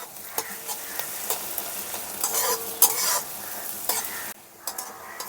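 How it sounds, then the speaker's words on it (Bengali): Chopped onion with green chillies fries in a pan and is stirred until browned: continuous sizzling punctuated by scraping spoon strokes and clinks, close and fairly quiet. "পেঁয়াজটাকে লাল করে ভেজে নেব।"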